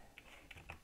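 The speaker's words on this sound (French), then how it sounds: "entendant le bruit de mon clavier featuring ma souris." Computer keyboard keys tapped in short bursts alongside mouse clicks, a handful of light, crisp clicks spaced irregularly, close and fairly quiet with no voices.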